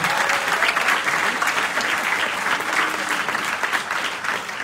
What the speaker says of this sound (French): Oui, on peut applaudir Patrick Luc.